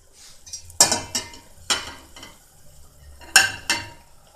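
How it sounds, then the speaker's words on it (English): Cassava leaves being added and stirred in a cooking pot, with scraping, clattering utensil strokes in irregular bursts and a faint sizzle beneath, close and moderately loud. "Well, it's now time to add our cassava leaves."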